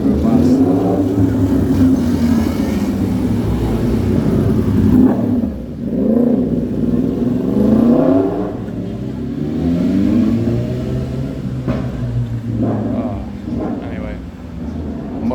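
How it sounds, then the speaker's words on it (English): A motorbike passes on a street, its mid-pitched engine revving and rumbling loudly, rising and falling as it goes by, with a person talking over it. "Motorbikes"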